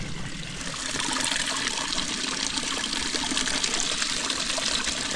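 Piped water from a spring pours steadily along a mountain hiking trail, a close, continuous splashing gush with no pauses and no voices.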